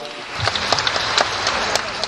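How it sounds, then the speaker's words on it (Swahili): An audience claps for a man's father, a former pilot, during an interview gathering: a steady patter of many hands at moderate distance, mixed with talking. "Makofi mengi tena kwake."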